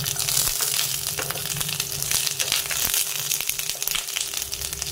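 Eggplant slices frying in hot oil, a steady close sizzle with many small crackling pops and spatters throughout.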